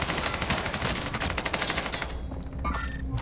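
Rapid automatic gunfire from a PS4 video game rattles in dense, loud bursts, then thins out toward the end with a few scattered shots.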